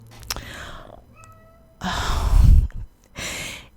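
A house cat meows in short, close, clear calls that alternate with breathy, sigh-like bursts of noise, and there is no talking.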